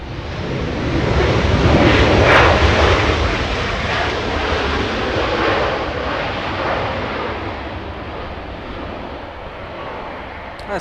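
A Delta airliner arriving at LAX from Atlanta makes a sustained broadband jet roar that swells early and then slowly fades, with some wind noise mixed in.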